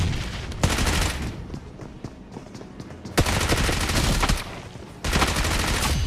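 Squad fight in BGMI: loud rapid automatic gunfire in sustained bursts, with short pauses between volleys and distant scattered shots in the gaps.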